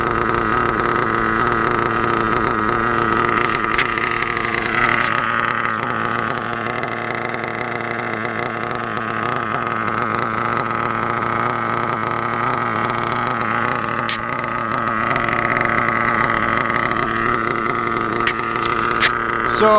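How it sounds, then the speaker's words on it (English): A Reedy 121-VR nitro engine in an RC8T buggy screams continuously during break-in, holding a high, buzzing whine with small throttle changes throughout, loud and close, with no voices. "I am breaking in a new engine"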